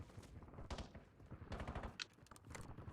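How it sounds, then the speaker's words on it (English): Gunfire in a shooter video game sounds in several faint, rapid bursts of overlapping shots spread across a few seconds, with no voices. "someone's shooting at me"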